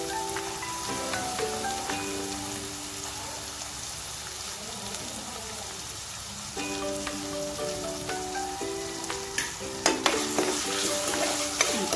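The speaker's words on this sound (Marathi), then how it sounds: "आता आपण याच्यामध्ये जे चॉप केलेले कांदे आहेत ते टाकून घेऊया।" Chopped onions sizzle in a pan with green chili and masala paste, a steady frying hiss broken by a spoon stirring and scraping against the pan, with faint musical tones running underneath.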